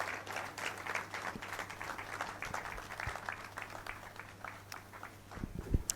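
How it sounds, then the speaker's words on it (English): An indoor audience at a formal address applauds the Speaker with faint, scattered clapping that continues for several seconds before a few louder thumps near the end. "I believe that he deserves another round of applause"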